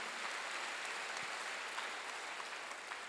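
A church congregation applauding during a Wednesday worship service, a steady, even wash of many hands clapping at a moderate distance that carries on without a break.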